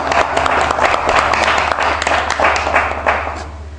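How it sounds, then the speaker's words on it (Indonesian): An audience claps together in a village public speaking training session, dense steady applause filling the room for several seconds before tapering off slightly at the end. "Oke, kita berikan tepuk tangan dong."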